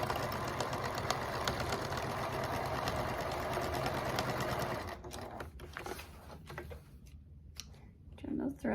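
A sewing machine runs a fast, even stitch across the seam of a drawstring tote bag with a clear vinyl panel, then stops abruptly, leaving sparse clicks and a brief voice.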